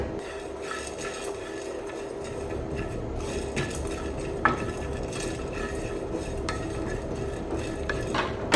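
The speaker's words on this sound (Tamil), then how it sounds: "இப்போ மிளகு சீரகத்தை வறுத்து எடுத்துக்கலாம் ரொம்ப கருக விடாமல் வாசம் வர்ற வரைக்கும் வறுத்து எடுக்கணும்" Black pepper and cumin dry roasting in a pan: continuous scraping and stirring with a utensil, occasional metallic clinks against the pan, steady and close with no talking.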